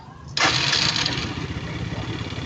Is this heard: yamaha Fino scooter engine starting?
yes